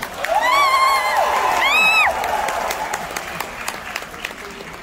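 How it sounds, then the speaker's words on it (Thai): A large crowd at a live Thai stage show in Bangkok claps loudly and cheers for the performers, with high whoops and shrieks over the applause before it fades. "ขอเสียงปรบมือและเสียงกรี๊ดเป็นกำลังใจให้นักแสดงด้านหลังเวทีหน่อยครับ"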